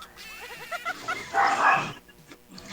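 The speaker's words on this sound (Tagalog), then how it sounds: "Mas malakas pa tahol ang aso mo." A dog barks outside in a short burst of several yaps, then a louder, harsher bark. The sound is moderately distant and there is no talk over it.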